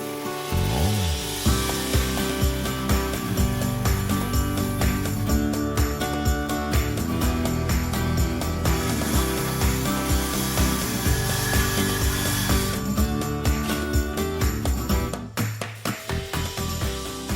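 Wooden window trim being sawn in a log cabin, a steady rhythmic rasp of repeated strokes, loud and close, running without pause for most of the stretch.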